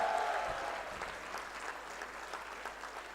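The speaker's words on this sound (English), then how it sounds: "Big round of applause to the star of India." Sustained applause from an audience at a youth festival event greeting a guest star of India as he comes onto the dais, dense clapping throughout without speech.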